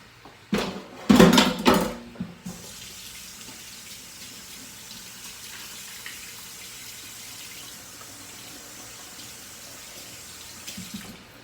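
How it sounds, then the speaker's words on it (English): Tap water runs into a kitchen sink as hands are washed, a loud splashing burst for the first couple of seconds, then a steady, softer flow under a faint hiss for the rest. "Let me just throw this in the sink and wash my hands real quick."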